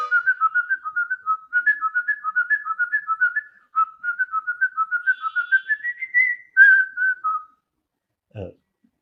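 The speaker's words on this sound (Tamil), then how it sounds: "அது விசில் பண்ணி காமிச்சேன்" A man whistles a film-song melody alone, in quick, clear, rising and falling phrases with short breaths between them, ending with a brief knock.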